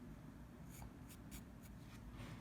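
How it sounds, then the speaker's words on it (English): A soft 5B pencil scratches on paper in a few short separate strokes, quiet and close, drawing a turtle over a steady hiss. "we're just going to draw a turtle we saw at the zoo on here with a 5B pencil"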